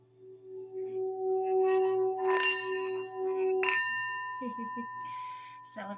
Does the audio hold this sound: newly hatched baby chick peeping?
no